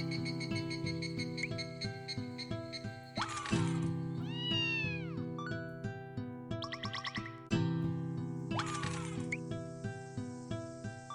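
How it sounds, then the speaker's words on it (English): A cat meows at a door, giving two or three drawn-out meows in separate bursts over steady background music. "I think I hear a cat at my door."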